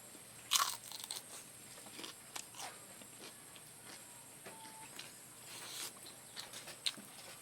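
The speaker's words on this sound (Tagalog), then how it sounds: "Tas yung pagkakaprito ng dried fish ay yung malutong." Crunchy fried dried fish being bitten and chewed up close, with sharp crisp crunches scattered among quieter chewing in a quiet room.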